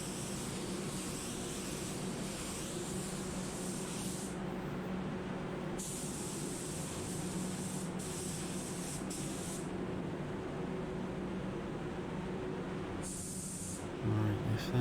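Spray gun laying grey wet-on-wet primer onto car parts, a steady continuous hiss that pauses only briefly for a moment or two.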